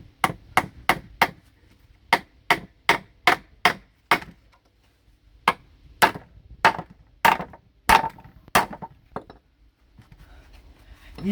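Hammer blows drive a stubborn nail into wood: about twenty sharp, close knocks in quick bursts of three or four, with short pauses between and a few lighter taps at the end.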